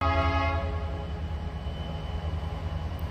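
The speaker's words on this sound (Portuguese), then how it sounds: "O trem tá vindo." Train horn sounding at night near a wild campsite, a steady tonal blast over a deep rolling rumble of an approaching train, loud at first and then continuing as a low, sustained rumble.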